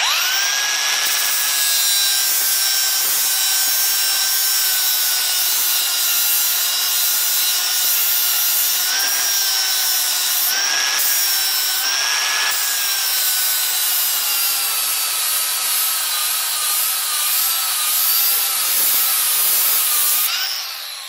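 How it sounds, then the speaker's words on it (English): A Milwaukee M18 FUEL 2780-20 angle grinder sharpening a steel mower blade: a loud, continuous high grinding whine with a steady motor tone that shifts slightly in pitch as it presses, running unbroken for about twenty seconds with no talk. "you can just get one of these angle grinders, which is multi-use, and then you can sharpen your mower blades"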